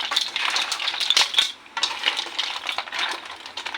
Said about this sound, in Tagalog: Konting halo.